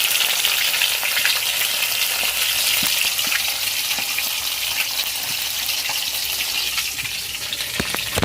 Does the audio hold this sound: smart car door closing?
no